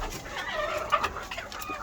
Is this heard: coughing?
no